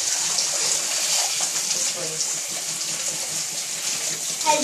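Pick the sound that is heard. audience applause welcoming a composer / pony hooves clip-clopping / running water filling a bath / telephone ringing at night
running water filling a bath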